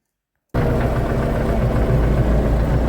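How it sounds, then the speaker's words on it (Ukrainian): A tractor engine starts up and runs steadily after a fuel system repair, a loud close low idle with a constant rumbling throb and no talk. "Запустили ми трактор, виїжджаємо в поле."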